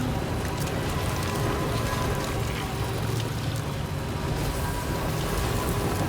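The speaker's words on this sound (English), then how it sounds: "It's never gonna stop raining." Heavy, constant rain in the video game Death Stranding 2 patters and hisses evenly throughout, a dense steady downpour with no talking.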